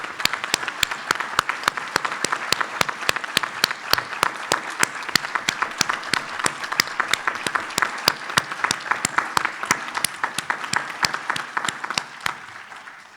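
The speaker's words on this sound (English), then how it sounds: "Nice applause." An audience at a community event in Cloquet gives sustained applause, with dense, crisp clapping that holds steady at moderate volume for several seconds and then thins out at the end.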